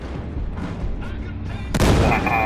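Grenade exploding in the shooter game Battlefield Hardline: a sudden loud, close blast bursts in near the end, following a stretch of rumbling gunfire and ambient battle noise.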